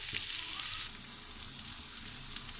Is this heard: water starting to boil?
yes